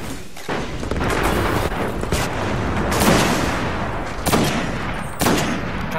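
Gunfire in the Destiny game crackles almost without pause, with several louder, sharper shots standing out near the end.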